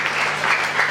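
A church congregation applauding, a brief burst of dense, loud clapping from many hands.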